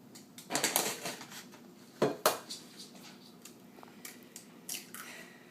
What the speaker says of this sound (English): I like to take 3 eggs, crack them in